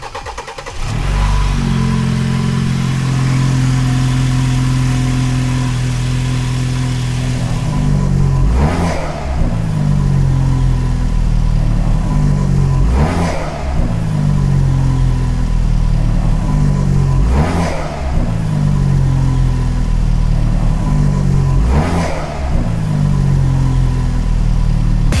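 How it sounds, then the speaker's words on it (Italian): A BMW engine starts and runs through a handmade exhaust with a metal catalytic converter, idling loudly and steadily, then revving sharply five times at regular intervals. "Adesso Mirko accende il motore, così facciamo vedere che effettivamente il motore c'è, funziona, e potete anche sentire il suono dello scarico."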